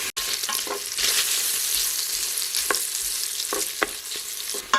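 Bacon sizzles and fries in an Instant Pot, a continuous close crackle with occasional sharper pops and stirring scrapes.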